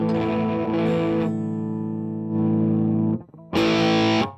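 An electric guitar played through a Tantrum pedal and a Klon set for an edgy breakup distortion, with chords struck, held and decaying, then a short pause before a final bright, loud strum, close and without voices.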